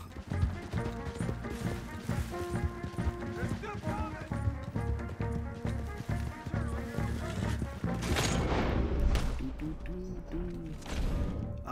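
Horse hooves clop rhythmically during a Red Dead Redemption 2 shootout, steady and mid-distance, mixed with crashes, gunfire and game music, while people talk over the action.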